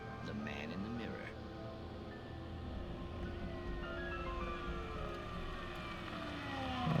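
A wailing siren sweeps up and down against a dense, rumbling backdrop in the video game Alan Wake Remastered, steady and moderately loud throughout the scene.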